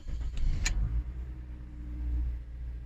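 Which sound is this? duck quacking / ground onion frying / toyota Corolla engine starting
toyota Corolla engine starting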